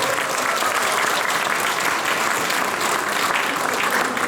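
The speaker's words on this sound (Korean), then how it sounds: "자부회한테 좀 감사의 박수 부탁드리겠습니다" A dense, even wash of applause from a gathered Korean church or community group giving thanks to a volunteer committee, many hands clapping together at a constant level throughout.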